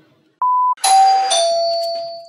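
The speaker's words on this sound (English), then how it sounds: "We've got somebody ringing the doorbell" A doorbell rings indoors: a short electronic tone, then a brighter two-note chime that rings out and slowly fades, heard alone and close.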